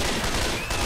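Sustained gunfire in the co-op zombie game Left 4 Dead 2, a loud, unbroken stream of shots packed tightly together with a brief dip near the end before the firing resumes.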